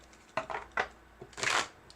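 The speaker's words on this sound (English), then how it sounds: "shuffle cards just because I fidget" Playing cards shuffled idly as a fidget, a handful of short papery riffles and taps at irregular intervals, close by and moderately loud, with no one speaking.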